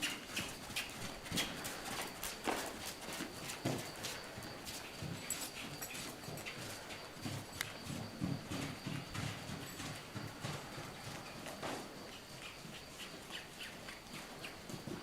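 A horse walks under a rider, its hooves giving a steady, close clip-clop rhythm throughout, with no talk.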